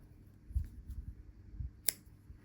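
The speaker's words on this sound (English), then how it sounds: "Snip the two little ends off" A pair of scissors snips off the short ends of white yarn after a crochet join, one crisp, close snip standing out against soft handling rustles and low thumps.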